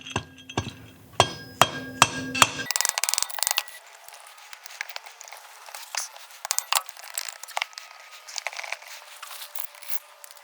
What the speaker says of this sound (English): Just tap it down with a mallet.